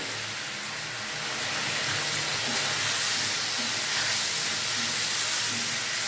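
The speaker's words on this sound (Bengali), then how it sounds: "দিয়ে সমস্ত উপকরণগুলো ভালো করে ভেজে নেবো।" Ground coriander, red chilli powder and other spices fry loudly in a pan for a Bengali fish curry, making a dense, continuous close sizzle and hiss that swells slightly after the first second, with no talking.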